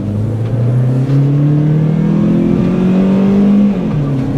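A Toyota Celica GT-S with its Yamaha engine revving up toward 6,000 RPM, the tone climbing steadily and loud close by, then easing off near the end.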